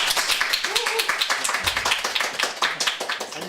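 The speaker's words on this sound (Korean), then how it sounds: "박수로 환영해 주시죠." An audience claps in a small studio setting to welcome a guest author, a brisk run of distinct hand claps with a voice speaking over them.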